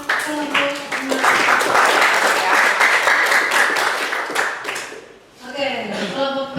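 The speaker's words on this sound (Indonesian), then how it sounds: "Tepuk tangan buat kelompok 6." Classroom applause for a student group after their micrometer measurement presentation, steady mixed clapping for several seconds that fades out, with voices talking over and after it.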